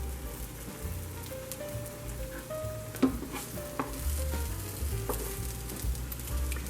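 French toast made from homemade quick casserole bread sizzles steadily in a pan, a close, even frying crackle with a few faint clinks and no talk.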